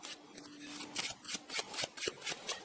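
Playing cards riffled in a shuffle by a magician, a run of brisk, crisp bursts of paper flutter repeating every half second or so, close and fairly quiet, with no talk.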